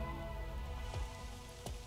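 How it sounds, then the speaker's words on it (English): Steady rain falling in the video game Master Detective Archives: Rain Code, a dense, continuous patter with a couple of brief sharper splashes, with no voices. "More rain. Cool. Same as always."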